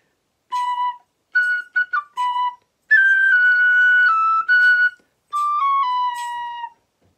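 Tin whistle plays a phrase alone, close and clear, in short clipped staccato bursts followed by longer sustained notes and a descending run to a held final note.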